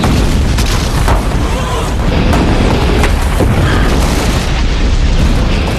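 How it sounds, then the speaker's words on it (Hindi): Cannon fire pounds the city wall of Jerusalem during Saladin's siege, a loud, continuous roar of booms and rumbling blasts that fills the whole stretch. "आखिर 5 दिन की सख्त लड़ाई के बाद फाइनली सलाहुद्दीन की एक तोप ने जेरूसलम की दीवार का एक हिस्सा गिरा दिया"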